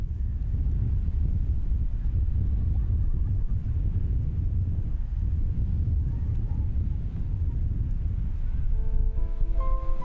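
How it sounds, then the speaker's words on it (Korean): Strong wind roars across the hilltop observatory of the Daegwallyeong ranch on a foggy, snowy winter day, a steady low buffeting rumble with gusts against the microphone. "바람 소리만 허허롭다"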